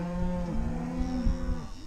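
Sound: cows mooing

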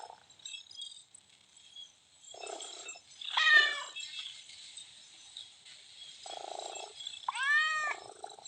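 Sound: cat purring in a video game

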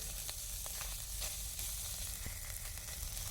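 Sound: ginger-cumin paste sizzling and stirred in oil

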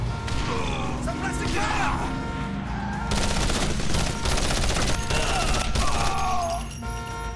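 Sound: hand grenades thrown in video game Code of Honor 3

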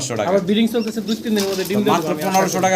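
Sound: pigeons cooing

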